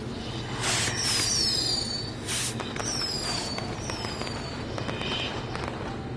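Fireworks burst in a video game, a dense run of crackling pops and whistling streaks over a continuous rumbling, explosive backdrop that fills the whole stretch.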